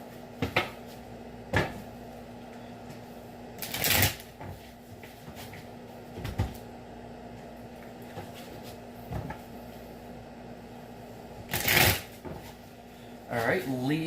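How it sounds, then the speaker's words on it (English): A deck of tarot cards is shuffled in a couple of quick, close riffling bursts, with softer handling taps between them and a voice speaking quietly in the background. "Shuffle this one time today for Leo."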